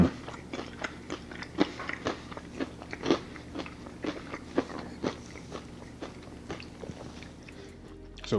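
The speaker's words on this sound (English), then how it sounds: "Let's see if we get that crunch." Repeated crisp crunches as a crispy fried chicken tender dipped in ranch is bitten and chewed up close, a steady rhythm of crackling bites and chewing with no talking.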